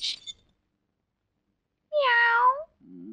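A cat meows once, a clear drawn-out close meow after a brief sharp sound at the start, followed by a short low vocal murmur.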